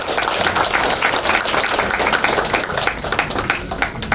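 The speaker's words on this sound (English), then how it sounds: "please welcome and join me to give him a round of applause to Mustafa Gamal El-Kassar." An audience at a youth summit breaks into steady applause welcoming a speaker, dense continuous clapping that stays loud throughout the few seconds with no talk over it.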